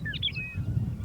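A North American sparrow sings a short burst of high, bright, sweeping notes over a low background rumble.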